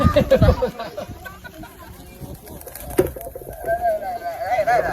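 Pigeons coo softly in the background while people talk nearby, with a short sharp knock partway through.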